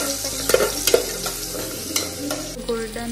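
Onion sautéing in a pan for dal khichdi, a continuous close sizzle with a few spatula scrapes and knocks as it is stirred toward golden, no voices.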